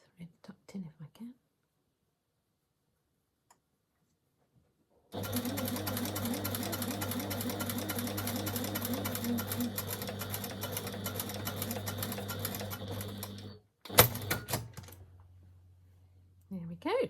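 A domestic sewing machine stitches a skirt hem in one steady, fast mechanical run of about eight seconds after a quiet start, then stops with a few clicks and a brief final burst, with soft speech at the start.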